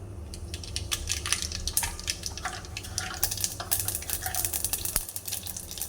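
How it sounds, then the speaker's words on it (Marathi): Mustard seeds crackle and pop steadily in hot oil, a dense stream of sharp little sizzling clicks close up, with no talking. "तेल गरम झाले त्यामध्ये घालूया मोहरी"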